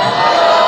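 A short burst of steady crowd noise from a studio audience, loud and continuous cheering with scattered whoops and no clear individual voices.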